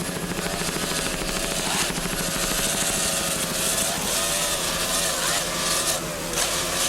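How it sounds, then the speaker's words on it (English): Offshore racing powerboats, one powered by twin 2.5 EFI engines, race at the 1998 Key West world championships, their engines droning loud and steady with whining pitch swings as the throttle is worked over the water. "Nice jump, nice throttling there by Matthew Kaiser."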